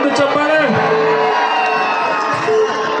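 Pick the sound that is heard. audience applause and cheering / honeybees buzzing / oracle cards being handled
audience applause and cheering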